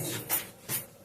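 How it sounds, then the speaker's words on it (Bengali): Poppy seeds are ground by hand into a fine paste with two soft, rhythmic scraping strokes, close and fairly quiet, and no talking. "পোস্তটা খুব সুন্দর ফিনিশ করে বাটবা।"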